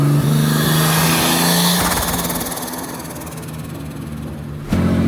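Turbocharged BMW E36 323 from eBay, its engine revving on a dyno: a loud sustained pull that climbs, then eases back as the revs drop, with a sharp surge near the end, close and with no talk.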